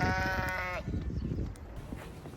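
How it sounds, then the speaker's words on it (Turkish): Lambs bleat in a barn at a veterinary faculty, one clear, loud, wavering bleat at the start followed by rustling and fainter animal noise. "Kuzularımız."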